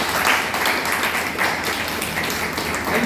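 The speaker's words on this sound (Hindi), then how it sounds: "जोरदार तालियां" Applause from an audience at a drama and theatre department session, a steady dense wash of clapping at moderate loudness throughout without a clear break.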